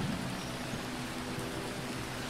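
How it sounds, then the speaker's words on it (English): Rain in the video game Phoning Home falls as a steady, even hiss of broadband noise, constant and moderately loud with no talking. "And of course it's raining."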